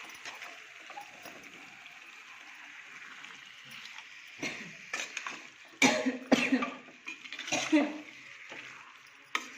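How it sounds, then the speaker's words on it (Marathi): Coughing and throat clearing from pungent fumes of a spicy ground masala paste being sautéed for chicken fry, several harsh close coughs in the second half over soft sizzling and stirring. "वाटणाचा एकदम छान झणझणीत ठसकाही सुटलेला आहे."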